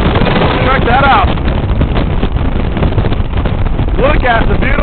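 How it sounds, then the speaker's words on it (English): Strong seaside wind buffets the microphone with loud, constant low rumbling gusts, and excited voices call out faintly through the roar. "you can't even hear me because it's so windy"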